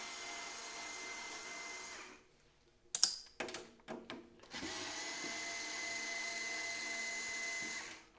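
A Ryobi power screwdriver backs screws out of a welder AC-DC converter housing: steady whirring stretches broken by a short run of sharp clicks and clatter, close by with no talking.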